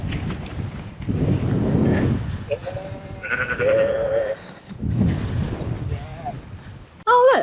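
Sheep bleat on a hillside trail in Swaledale, a few wavering calls close by amid gusting wind noise on the microphone, with a person's voice nearby.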